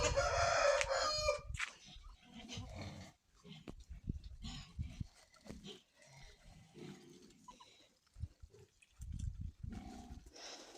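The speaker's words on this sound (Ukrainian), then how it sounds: "Курочки їдять, позбігалися." A rooster crows loudly at the start, followed by hens clucking and scratching around nearby in a busy, irregular patter, with farmyard ducks, on a sunny, slightly windy autumn morning.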